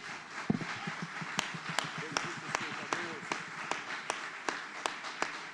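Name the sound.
congregation applause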